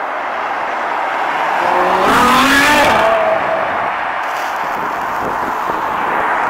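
A Lamborghini Aventador engine revs up sharply, rising to a loud roaring peak before dropping back to a quieter rumble.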